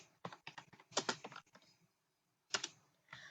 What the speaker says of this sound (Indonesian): kita tinggal ketik git tag aja